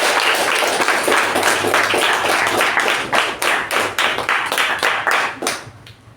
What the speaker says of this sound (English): A huge round of applause for Toastmaster Midhun.